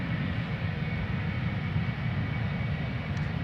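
Airliner bound for Edinburgh taxiing at Amsterdam Schiphol Airport, a steady low engine rumble and hum running unbroken throughout, moderately distant, no voices.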